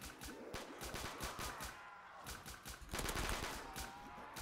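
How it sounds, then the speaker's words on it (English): A nail gun fires in Call of Duty Black Ops 3 zombies mode, giving rapid, fairly even bursts of mechanical shots that pause briefly midway and then resume, heard faintly. "The nail gun? It's alright."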